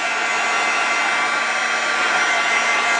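A Stampin' Up heat tool blowing to dry gesso on a mixed media canvas, giving a steady loud close whirring roar that holds unchanged throughout, with no talking.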